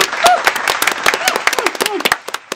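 A few podcast guests clap in short, uneven bursts, close by, with talking and laughter mixed in around the claps.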